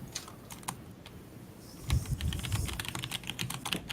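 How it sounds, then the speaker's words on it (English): Rapid typing on a computer keyboard, a steady run of close, crisp key clicks with a few heavier thumps on the space or enter keys in the second half. No voices. "I was typing to Elliot."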